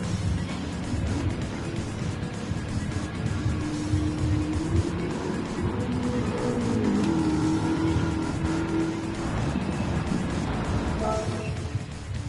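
A race car engine in the Gran Turismo 7 video game drones steadily and loudly for the whole stretch, with rising and falling revs as the throttle is eased.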